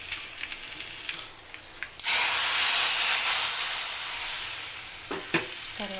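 Fenugreek seeds fried in hot oil as a tempering are tipped into cooked dal, setting off a sudden loud, steady sizzle and hiss that slowly eases, with some stirring clinks near the end.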